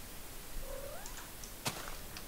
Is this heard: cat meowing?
yes